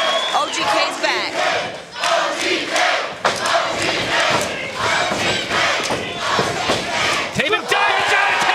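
Wrestling arena crowd roars and cheers continuously, loud and dense, with shouts and thuds from the ring rising through it.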